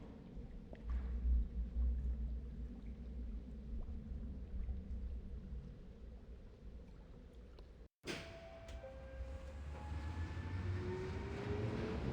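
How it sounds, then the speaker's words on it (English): In the video game Teenage Mutant Ninja Turtles Mutants Unleashed, a train rides along with a low, steady rumble of railcars. After a brief cut it continues with faint squeals and rising metallic tones. No one speaks. "She stepped onto the train. Let's follow her!"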